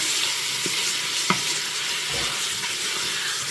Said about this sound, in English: Be sure that you stir it every now and then so that it doesn't stick and burn to the bottom of your Instant Pot